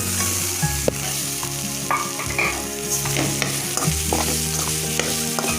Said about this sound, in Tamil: இப்போ நாம் இந்த வேக வச்சு மசிச்ச பொட்டேட்டோ உள்ள சேர்த்துக்கலாம்.